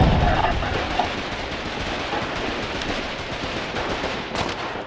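Gunfire in the Foxhole war video game, a dense, continuous clatter of shots and distant battle noise with a brief sharper burst near the end, heard alone without talk.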